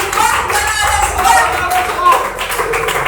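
An audience at a Hindi poetry gathering in Banaras claps steadily, a dense wash of applause mixed with voices.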